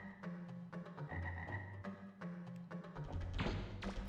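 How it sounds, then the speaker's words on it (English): Frogs in the Mega Man Legends 2 video game give repeated rhythmic low croaks in a steady pulsing chorus, close and clear, ending in a brief burst of noise. "I'm hearing froggies."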